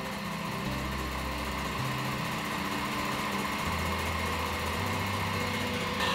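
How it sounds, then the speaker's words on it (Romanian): Electric hand mixer whipping meringue as sugar is gradually added to stiff egg-white foam for a Pavlova roll, giving a steady, continuous high-pitched motor whine at close range with no pauses. "oprim mixerul"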